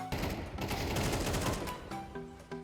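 Rapid automatic gunfire from a Counter-Strike 2 competitive match, a loud dense burst of shots for about two seconds, then a few sharper separate reports, with no voices.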